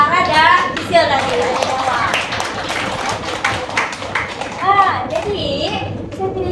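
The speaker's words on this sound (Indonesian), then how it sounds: "Tepuk tangan dulu dong untuk Ara dan Sisil tadi" Schoolchildren in a fourth-grade classroom break into clapping and excited chatter, a lively patter of small hands mixed with children's voices and a teacher speaking.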